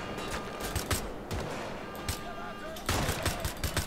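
Gunfire in the video game Wolfenstein: The Old Blood: several sharp bursts of shots crack through a steady, low game background, fairly quiet overall.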